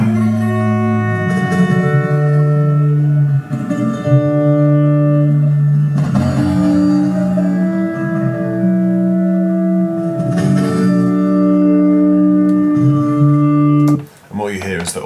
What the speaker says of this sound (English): all of the picking noises on the guitar strings are stretched out as well